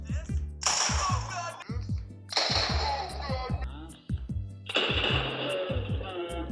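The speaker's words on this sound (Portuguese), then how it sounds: "vou dar aqui um tiro, mano" Gunshots fired in a PS5 video game streamed to a Switch, three sharp loud blasts spaced about two seconds apart, each with a brief decaying tail, over a low buzzing tonal background.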